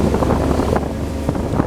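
Strong wind buffets the microphone on top of a wooded hill, a steady loud roar and rumble with no pauses.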